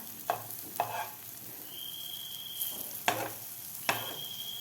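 Egg and capsicum rings fry gently in a pan, a soft low sizzle punctuated by four distinct spatula taps and scrapes, with a faint high whine midway.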